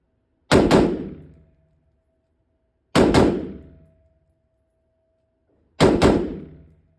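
Three separate firearm shots ring out at an outdoor shooting range, evenly spaced about two and a half seconds apart, each a sharp loud crack with a short fading tail, and no voices between them.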